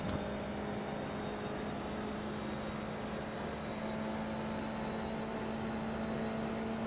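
Formula car engine in the iRacing sim game, a steady whirring drone that holds at a constant pitch throughout, moderately loud and unbroken, with no talk.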